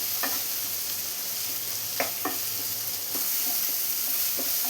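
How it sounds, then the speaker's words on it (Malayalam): Chopped tomato sautéing in a pan, with a steady soft sizzle throughout and a few brief spoon-scraping stirs. No voices. "ഈ തക്കാളി നന്നായി തന്നെ ഒന്ന് വഴറ്റിയെടുക്കണം."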